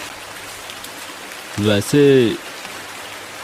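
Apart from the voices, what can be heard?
heavy rain falling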